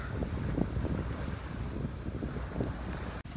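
A sailboat under way in steady wind on the Pacific Ocean, with a constant rush of wind buffeting the microphone over water and hull noise, no voices.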